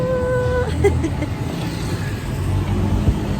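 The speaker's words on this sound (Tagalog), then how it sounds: "Ang traffic." Steady road traffic rumble from cars and buses, a continuous low drone filling the background with a few faint tonal whines early on, heard alone without talk.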